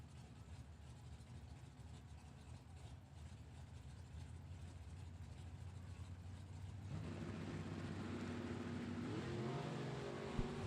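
Drag race cars, one a Trans Am, launch side by side from the start line at a Super Pro bracket event, engines rising from a steady low drone to louder roaring revs, heard at a distance with no talk.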